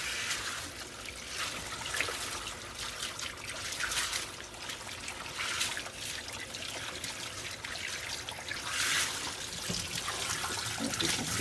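Water trickles and splashes faintly as dye is rinsed out of dipped bell-bottom trousers, a soft continuous running sound with gentle surges.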